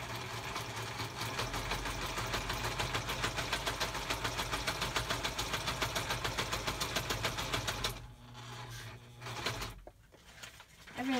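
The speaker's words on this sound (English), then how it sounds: "I'm going to sew around the vellum." A sewing machine stitches around a sheet of vellum on a junk journal page, running in a steady, close, continuous whir for about eight seconds before stopping, then giving a few brief handling sounds.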